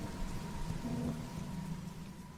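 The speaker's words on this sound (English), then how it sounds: "The storm rages until 2 o'clock in the morning" Steady heavy rain with rumbling thunder in a stormy night around a rambling farmhouse, a continuous low roar with no voices over it.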